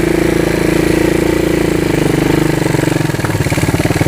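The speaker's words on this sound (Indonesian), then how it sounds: "Naik cukup gampang, nggak perlu gas pentok tapi motornya udah mau naik." A Honda CT200AG motorcycle engine pulls steadily up a fairly steep, rough uphill trail, its throttle not fully open, with a continuous loud drone whose rhythmic chugging of the exhaust becomes more pronounced near the end.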